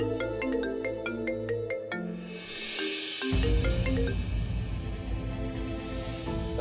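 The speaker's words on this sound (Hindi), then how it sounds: "कबीर यार, कितने फोन कर चुकी है ज़ारा?" A phone ringtone plays as a bright, repeating electronic melody with stepped tones, carrying on steadily at a fair level throughout over a low musical backing, with no talking.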